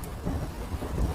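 Heavy rain and thunder in a Hindi jungle cartoon: a dense, steady roar of loud downpour with low rumbling thunder underneath, continuous throughout.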